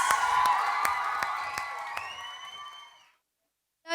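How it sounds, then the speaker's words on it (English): Cheering and applause from a school crowd of children after a Year 6 performance, a loud sustained burst with scattered claps that fades out over about three seconds, followed by silence. "let's give Year 6 a massive round of applause!"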